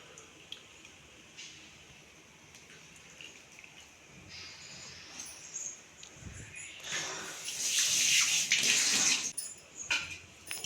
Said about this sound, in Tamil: புளி ஊற்ற போகிறேன்